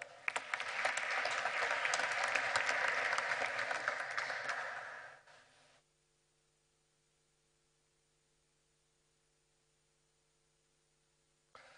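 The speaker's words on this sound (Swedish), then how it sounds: "En varm applåd till Lars E.O. Svensson och välkomna!" An audience in a lecture hall applauds warmly to welcome a former deputy central bank governor before his report presentation. Steady clapping lasts about five seconds, then fades into near silence with only a faint electrical hum.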